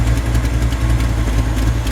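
A Vortec V8 in a 1964 Chevrolet C10 with a slight exhaust leak idles steadily up close, a low even rumble with a fast regular pulse and no talking.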